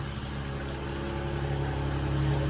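A car engine idles steadily after being started on old, bad gasoline following three or four years without running, a low continuous rumble close by with no talking.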